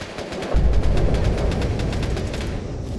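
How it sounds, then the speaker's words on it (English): Rapid gunfire bursts in Fallout 76, a dense run of loud shots with booming low thuds, continuous across the whole stretch with no voices. "What are you shooting?"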